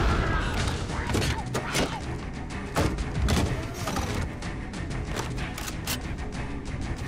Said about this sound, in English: So there's 1 shot. And a rocket, and he's dead.